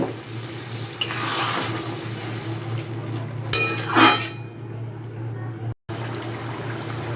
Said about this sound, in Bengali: তো এখন একটু জল অ্যাড করব।